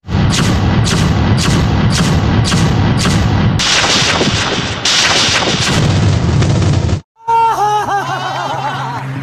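Rapid gunfire bursts and heavy booming explosions from the Free Fire mobile battle game, including sniper-rifle shots, loud and continuous with repeated sharp shot clusters, then a brief gap and a quieter stretch of game effects.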